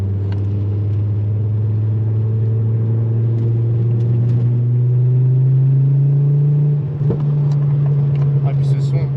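A Ford Focus engine drones steadily at close range during a track session, a deep continuous hum that rises slightly in pitch partway through, with people talking over it.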